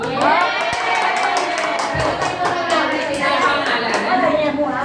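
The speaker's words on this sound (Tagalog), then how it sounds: "palakasan ng palakpak" Graduation audience clapping loudly, a dense sustained roar of hands with cheering and children's voices mixed in, people chattering beneath it.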